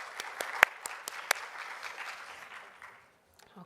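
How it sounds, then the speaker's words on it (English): A small audience at an art museum talk claps briefly, with scattered distinct hand claps over a thin patter that fades out to near silence by the end. "Clap it up."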